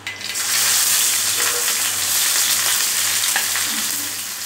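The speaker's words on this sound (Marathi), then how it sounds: "कांदा टाकून घ्यायचा सुरुवातीला।" Onion with a little cumin frying in oil on a flat tawa, a steady, close, loud sizzle that holds evenly throughout with faint stirring scrapes.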